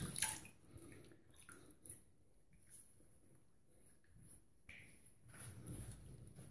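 Water splashes and drips as a face is rinsed after a straight razor shave, quiet irregular splashing and patter close by with some louder bursts.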